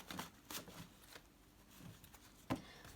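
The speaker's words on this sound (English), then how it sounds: "Let's shuffle my cards." Soft, sporadic rustling and riffling of tarot cards being shuffled by hand, with a sharper slap near the end, quiet and close.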